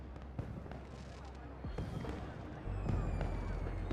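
Fireworks in the video game Beyond a Steel Sky, scattered pops and crackles over a dense, noisy game soundscape that builds to a louder rumble toward the end.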